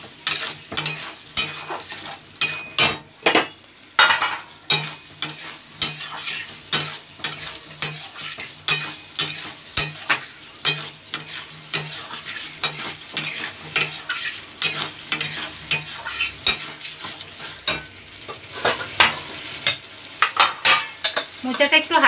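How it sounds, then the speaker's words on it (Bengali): Boiled banana flower stir-fried in a pan with a spoon, rendered as loud, rhythmic scraping and clinking strokes repeating throughout over a soft sizzle, close up and without talk. "এবার এটা ভালোভাবে কষিয়ে নিতে হবে"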